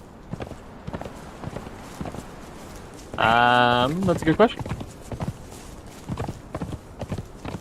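A ridden horse in the Conan Exiles: Isle of Siptah video game sends out steady, soft clip-clopping hoofbeats throughout, while someone talks briefly over them and a short tonal game sound rings out in the middle.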